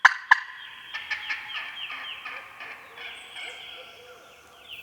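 Two sharp, loud calls open, followed by a wild turkey's rapid gobbling rattle that trails off into quieter, distant gobbles during a Mississippi spring hunt.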